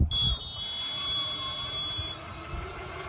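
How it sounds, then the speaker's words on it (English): A high, steady electronic buzzer alarm from a Mighty Mule gate opener as the gate closes, starting abruptly with a thud and holding its shrill tone throughout over faint background noise. "I'm gonna close the gate and you'll hear the alarm."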